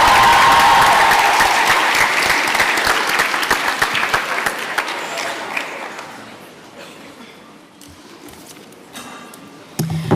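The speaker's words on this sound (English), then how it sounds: "Give her a round of applause." Audience applause at a school debate, dense clapping from a crowd that starts loud and gradually thins and fades toward the end.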